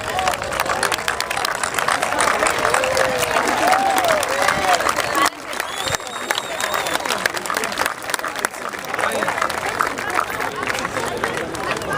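Graduation audience applauds parents and guardians during a valedictorian speech, long sustained clapping with crowd murmur and a few cheers, a brief dip midway, then continuing strongly.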